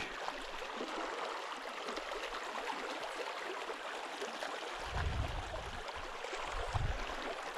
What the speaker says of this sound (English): Very pretty little creek.